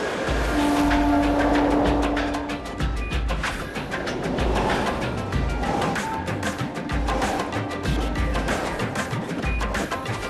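A Mumbai commuter train rumbles and clatters past, its horn sounding a sustained blast early on over the continuous roar of the wheels.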